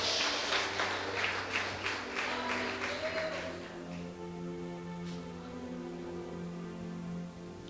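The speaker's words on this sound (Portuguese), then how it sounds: "Dê um aplauso para Jesus" A church congregation applauds for Jesus, a burst of scattered clapping over music for a few seconds before it fades and the sustained music carries on alone.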